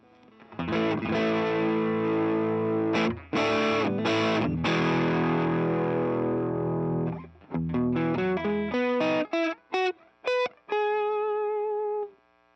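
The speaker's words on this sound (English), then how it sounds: "a vintage pickup going through a gainy amp, and this would be in the neck position" Electric guitar, a 1960 Fender Custom Shop Stratocaster on its vintage neck pickup, through an overdriven high-gain amp: long sustained distorted chords, then a quick run of choppy stabs and single notes ringing out at the end.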